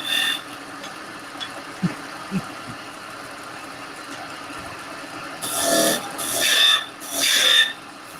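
A woodturning tool cuts into wood spinning on a lathe, giving a steady rasping hum that swells into three louder scraping bursts near the end.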